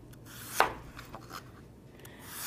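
A knife cuts cilantro leaves into big slices on a cutting board, giving two crisp chops about two seconds apart with a soft rubbing scrape between them. No one speaks.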